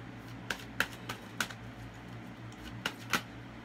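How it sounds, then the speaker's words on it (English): Oracle cards being shuffled by hand: a series of sharp, papery snaps and flicks at irregular intervals, close and fairly quiet over a low steady background hum. "So I'm just going to shuffle them up into one"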